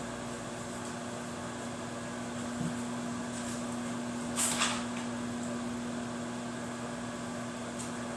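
A microwave oven hums steadily while heating broth for egg drop soup, a low even drone with a brief faint clunk partway through and no voices.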